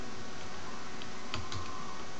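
Computer keyboard key presses while modelling in 3ds Max, a few faint clicks near the middle with a quiet background and no voices.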